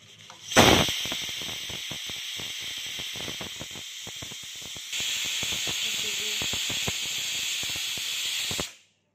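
A pressure cooker whistle blows hard, a loud, steady hissing jet of escaping steam that starts abruptly, grows stronger halfway through, then cuts off, with faint clicking underneath.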